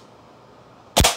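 A Fortnite x Nerf RPG toy blaster fires once near the end, a single sharp, loud pop-thud close to the microphone after a quiet pause.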